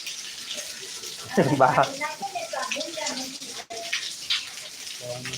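Rain falls and rainwater runs and splashes in a steady wash, with people talking over it close by.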